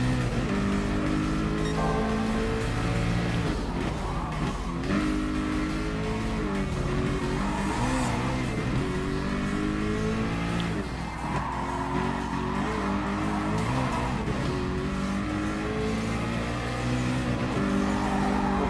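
Race cars roar around a track in Gran Turismo Sport, including a Peugeot L750R Vision GT Group 1 and a Porsche 919. Continuous loud engine drone with rising and falling revs and shifting pitch, alone with no voices.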